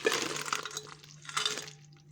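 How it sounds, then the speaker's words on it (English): Crabs drop into a pot of New Orleans seafood gumbo with a few light clinks and splashes against the metal, faint and close, over a low steady hum. "let's dump in our crabs"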